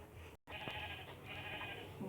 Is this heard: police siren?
no